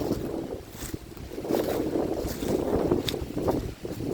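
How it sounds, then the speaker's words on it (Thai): Strong wind roars steadily through a forest on a bitterly cold day, a dense rushing blast with gusts and microphone buffeting that swell and ease throughout. "ลมพัดกระหน่ำด้วยเนี่ย"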